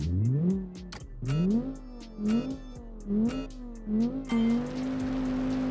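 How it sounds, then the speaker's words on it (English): A front-wheel-drive 1977 communist-era car engine revving hard several times in quick succession, pitch climbing with each pull and shifting, loud and close, ending in a steady held drone. "the engine feels very, very, very strong, ready to pull"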